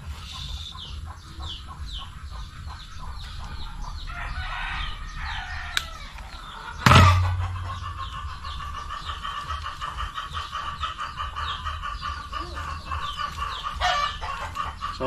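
Chickens at a neighboring house cluck in repeated bursts, and a rooster crows loudly midway. A sharp nearby knock cuts in, then steady background hum and clucking continue under the crow, all from a short distance away.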